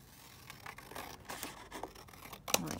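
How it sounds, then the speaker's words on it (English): Scissors cutting down a section of a paper journal page, a few quiet snips and rustles close by, ending in one sharper cut. "I'm just going to cut it down"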